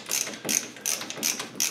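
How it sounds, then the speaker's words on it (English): Screws being tightened into an electrical box set in an existing wall, with small retaining levers flipping up; five close, evenly spaced bursts of ratcheting clicks sit alone with no talk. "you start tightening these screws right here, and when you do, those little levers will flip up and hold it in place"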